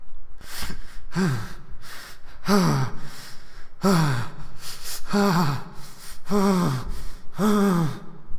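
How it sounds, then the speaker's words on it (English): Repeated strained, pained breaths hiss through clenched teeth, about six heavy gasps in an uneven rhythm, close and loud, with a voiced groan in each. "Short, pained breaths through nose. Father is breathing through gritted teeth."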